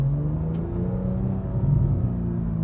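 Porsche 991 GT3 with a Dundon Motorsport exhaust and headers, still not fully warm, gives a steady close droning engine rumble with a low resonant hum and no talk.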